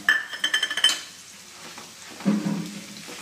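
Ground masala paste hits hot oil with cumin seeds, opening with a quick run of metallic clinks from a pot and spoon, then a soft steady sizzle with a brief scrape of stirring, heard close and without voices.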